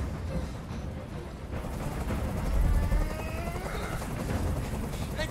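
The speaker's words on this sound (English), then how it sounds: "I can't stand that noise anymore. Tell that helicopter to get out of here." A helicopter hovers in the video game Detroit: Become Human, its rotor a continuous heavy rumbling drone that swells midway and stays loud throughout, with faint speech mixed underneath.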